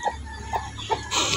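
A mother hen gives three short, soft clucks spaced apart, followed by a brief burst of rustling noise at the end.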